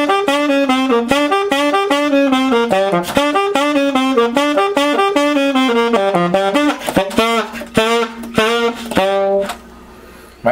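Alto saxophone plays a repeating riff, a bouncy sequence of short, punchy notes in a steady rhythm, close and loud, ending on a held note before fading out.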